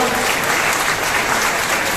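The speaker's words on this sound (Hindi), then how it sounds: "जोरदार तालियां" Loud, dense applause from a large audience at a Pradhan Mantri Awas Yojana house key distribution ceremony, an even, continuous roar of clapping with no pauses.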